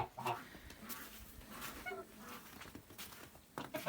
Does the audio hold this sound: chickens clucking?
yes